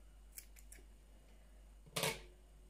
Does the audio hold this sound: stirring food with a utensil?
no